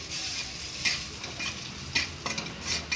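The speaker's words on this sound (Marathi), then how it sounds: "आता याला चांगलं हलवून घेऊ" A spoon stirs shev bhaji masala with red chili powder and salt in a sizzling pan. Soft scraping strokes come in an irregular rhythm over a steady low frying hiss, close up, with no voices.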